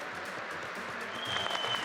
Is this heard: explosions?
no